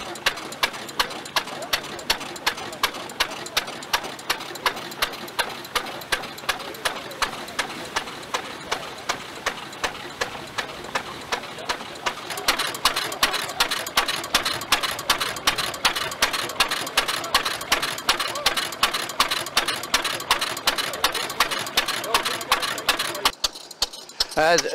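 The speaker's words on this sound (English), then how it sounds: "The make is an Eagle engine made in the town of Warwick outside Birmingham, and it was marketed under the trade name of a Warwick Eagle." A 1918 Warwick Eagle engine powers a threshing machine at a harvest, with a steady, fast mechanical beat throughout that grows louder and busier about halfway through and drops out briefly near the end.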